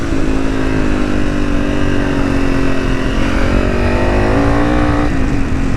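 A Honda CRF300 motorcycle in its final stage 4 setup, engine revving hard and loud as it pulls wheelies, the pitch climbing steadily through the throttle with a brief dip near the end, close and continuous with no talking.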